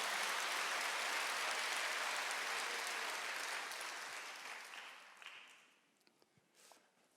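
Church congregation applauding during a Sunday worship service, a dense broadband wash of clapping that holds steady for several seconds, then thins and fades out to scattered claps near the end.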